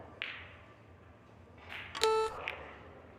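A shot-clock buzzer at a professional Premier League Pool match in 2025 gives one short, bright electronic beep, with faint venue noise and a couple of soft table knocks around it.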